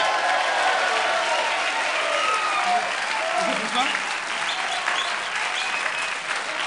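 A French television studio audience applauds a guest on a comedy variety show, a sustained wash of clapping at close range that holds steady for several seconds.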